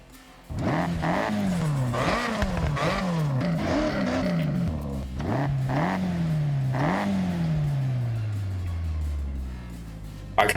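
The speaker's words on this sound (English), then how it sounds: "I kind of want to put the stock engine back in it. It sounds really good." Stock car engine in the Forza Horizon 6 racing game revs repeatedly, rising and falling in a string of sharp roaring pulls with brief gaps, then one long falling tone as it winds down, loud and close.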